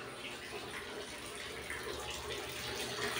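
Water runs steadily from a shower in a small home bathroom, a continuous broadband hiss that grows slightly louder toward the end, with no talk over it.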